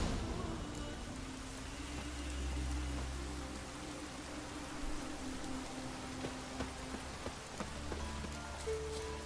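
Steady rain pattering on surfaces in The Witcher 3, a continuous soft hiss with a low hum underneath and occasional louder drops throughout.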